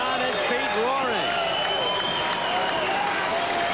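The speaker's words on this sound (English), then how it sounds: "the crowd is on its feet roaring" A boxing crowd at the Great Western Forum roars steadily on its feet during a Mark Johnson fight, a dense continuous swell of cheering and shouting, with a commentator talking loudly over it.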